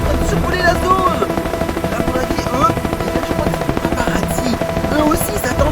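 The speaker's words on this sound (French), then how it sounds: "il y a des hélicoptères qui sont en train de survoler la zone" Helicopters fly over the area, a steady churning drone filling the whole stretch, with voices faintly mixed in.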